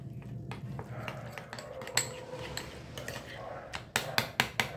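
A spoon clinks and scrapes inside a bowl while coriander-cumin powder and red chilli powder are mixed, irregular taps giving way to a quick run of sharper clinks at the end.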